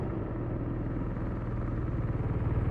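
BMW R1250RS big-capacity twin-cylinder motorcycle engine running at speed, a steady low rumble that swells slightly toward the end, heard close and continuous with no talking.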